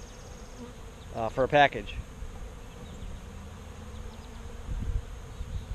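Honeybees from a newly installed package making orientation flights around a backyard hive, a steady low buzzing swarm throughout, with a person speaking briefly over it near the start.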